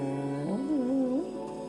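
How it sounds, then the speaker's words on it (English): Sniffer mob from Minecraft 1.20 Trails and Tales making a single wavering, warbling low call that bends up and down for about a second, moderately loud over a faint background hum, with no talking. "that's the sound of the sniffer"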